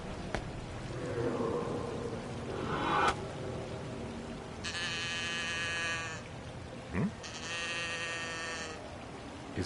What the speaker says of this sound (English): Is this little thing mooing?